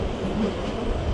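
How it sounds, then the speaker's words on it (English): A train pulls into platform 2 at London Waterloo with a broad, steady rumble of wheels and carriages, close and constant, no voices heard. "Train coming into platform 2"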